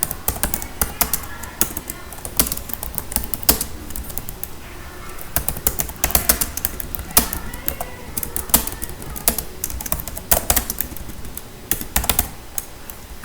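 Rapid typing on a computer keyboard while a sequence field is entered in Odoo, with dense, irregular key clicks running steadily throughout at close range and no talking.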